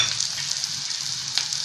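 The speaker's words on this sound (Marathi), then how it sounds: "शेंगदाण्याचं कूट टाकलं. आता परतून घेऊया जरा." Ground peanut powder stir-fried in a pan, a steady soft sizzle with faint scraping of the spatula and one brief clink, close and continuous with no voices.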